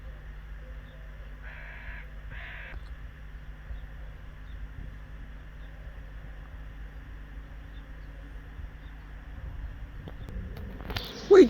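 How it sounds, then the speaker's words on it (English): Crows in a garden with almond trees, a pair of short caw bursts near the start against a steady low background hum, then louder rustling and knocking at the end. "I don't know why the crows are coming back in again"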